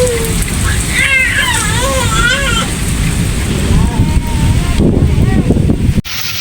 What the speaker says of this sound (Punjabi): ਬੜੀ ਤੇਜ਼ ਬਾਰਿਸ਼ ਹੋਈ ਹੈ ਜੀ।